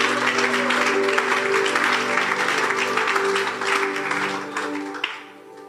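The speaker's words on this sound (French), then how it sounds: "Alléluia, acclamons pour Jésus" A church congregation applauds loudly and steadily for several seconds, the clapping dense and close before tapering off at the end, with faint voices mixed in.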